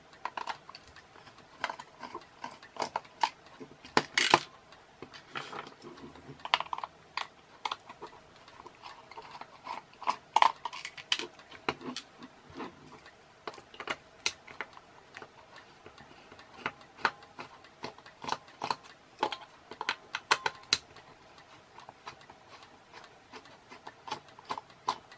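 Screws come out of the casing of a toy Tardis, giving small irregular ticks, clicks and scrapes of a screwdriver on plastic, quiet and close, with occasional louder knocks and no talk.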